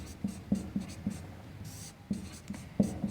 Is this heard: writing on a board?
yes